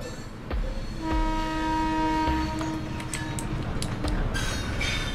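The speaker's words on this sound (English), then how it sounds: "Oh God, train." A train in the horror game Thomas The Shank Engine approaches with a loud, sustained multi-tone horn blast under a continuous rumbling roar and rattling wheels, close and heavy throughout.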